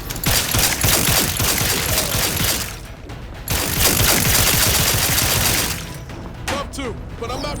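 Rapid gunfire from the video game Outer Worlds 2, loud continuous bursts filling most of the clip with a short lull near the middle, voices talking underneath toward the end.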